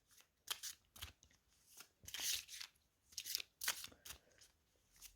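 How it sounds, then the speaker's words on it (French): Oracle divination cards being shuffled by hand in a quiet room, a run of soft riffling and sliding bursts, some sharper flicks, close and alone with no talk. "On va mélanger les cartes."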